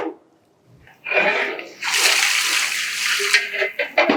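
Boiling hot water is poured into a pot of mutton biryani in an Ambur kitchen, a sudden loud gushing splash that runs steadily for a few seconds after a quiet start.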